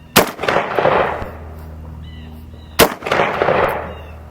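Two loud, sharp shotgun blasts about two and a half seconds apart, each with a rolling outdoor echo and a faint metallic clatter as the Panzer Arms SCR XII 12 gauge semi-automatic cycles between shots.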